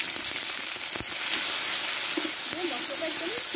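A ground green chili, cumin and ginger paste fries in oil with turmeric, giving a constant dense sizzle with occasional stirring scrapes and a brief voice-like tone near the end.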